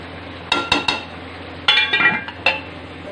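Metal clinks and clatters as a lid is set on a pot of chicken tikka, several sharp knocks in two clusters over a steady kitchen hum.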